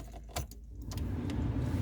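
A car engine starting after a digital CNG switch is turned on, with a brief jangle of keys and a short crank settling into a steady close idle, no talking.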